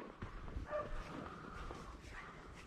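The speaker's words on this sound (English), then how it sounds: "What dog is that, Jeff?" A dog yips and whimpers a few times at moderate distance outdoors during a rabbit hunt, the calls short and irregular over steady background noise.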